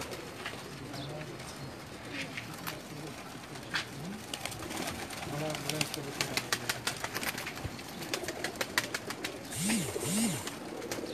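Pigeons cooing on a rooftop loft in Jeddah, soft repeated coos near and far with a few wing flaps and sharp clicks, while someone talks throughout.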